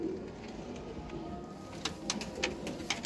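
Teddy pigeons on a rooftop loft in Sialkot coo softly and repeatedly, low throaty calls rolling on under brief higher chirps and faint background noise.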